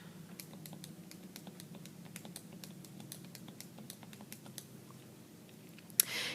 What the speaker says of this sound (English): So I'm going to type in all of my numbers.